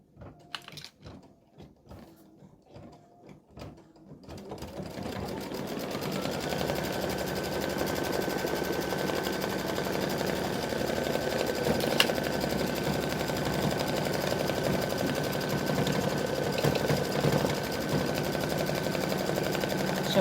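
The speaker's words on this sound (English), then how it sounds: "now it's going to do the satin stitching around each of the sections" An embroidery machine satin-stitches around the sections of an appliqué pumpkin. A few quick clicks and taps start it, then it runs in a loud, continuous, rapid whirring drone with a faint steady whine.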